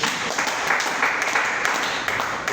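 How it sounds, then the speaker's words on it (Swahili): A church congregation claps for Jesus, a brief, dense burst of steady applause lasting a couple of seconds without a break. "Pigie Yesu makofi mazuri."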